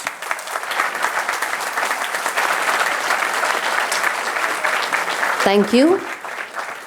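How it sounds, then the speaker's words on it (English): An audience at a university convocation ceremony claps steadily and densely for several seconds, then a voice speaks briefly over the tail of the applause. "Ladies and gentlemen, let us give them a big hand of applause"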